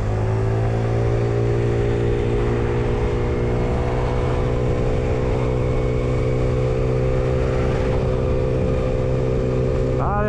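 A 50cc scooter engine runs at full throttle with a steady, droning whine that holds level pitch for ten seconds, loud and close, with wind noise and a brief rise in pitch at the very end.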